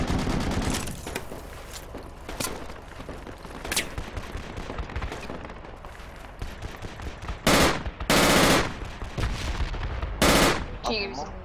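Gunfire in the military shooter game Project Reality: scattered shots and automatic bursts crack at varying distances, with several loud close blasts near the end over a constant background rumble.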